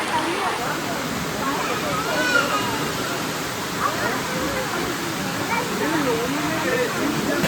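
Forest stream flowing near a waterfall on the Aare Falls trek, a steady broadband rush of water close by, with speech faintly present under the constant flow.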